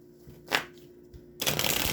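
Tarot cards shuffled by hand during a reading, with a short riffle burst followed by a longer, louder stretch of rapid card shuffling, heard close.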